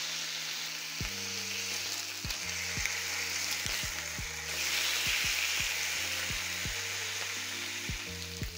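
Bacon strips fry in a pan with a steady, close hiss of sizzling fat that swells slightly midway, while soft background music plays underneath.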